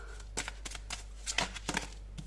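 Tarot cards shuffled by hand during a reading: a series of short papery riffles and flicks, close and soft, in uneven bursts with small gaps between them.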